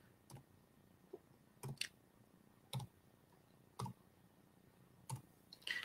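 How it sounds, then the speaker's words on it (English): Keyboard keys pressed while playing a Whack-A-Mole console game: isolated, crisp clicks arriving in small clusters about once a second, quiet and close, over a faint background hum. "I'm just pressing the corresponding button on my keyboard"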